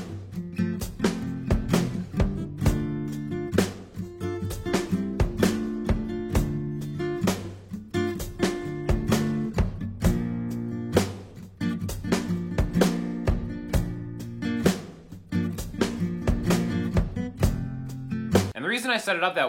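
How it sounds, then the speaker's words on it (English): A steady backing track plays with a drum beat driving the rhythm under sustained chords, full and continuous throughout. "So the backing track is going to sound like this."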